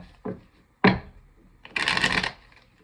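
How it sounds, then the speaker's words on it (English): Tarot cards shuffled by hand during a reading: a couple of short, crisp card slaps, then a longer rushing riffle, close and fairly loud with no voices. "I did pre-shuffle the cards, but I'm going to do some."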